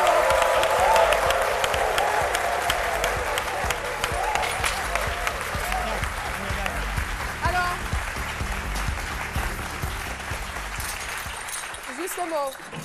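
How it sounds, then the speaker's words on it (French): In a live television studio, the audience claps loudly and steadily for a newly arrived guest, a long even roar of hands that slowly eases off, with a host's voice and crowd chatter mixed in. "je vous demande d'applaudir très fort"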